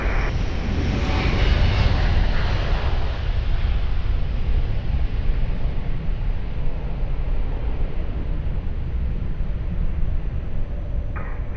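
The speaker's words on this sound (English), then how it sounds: "Airbus 330 now departing" Airbus A330 taking off from runway 20 at Lisbon Airport, its engines a loud, continuous jet roar that holds steady across the whole stretch with no talk.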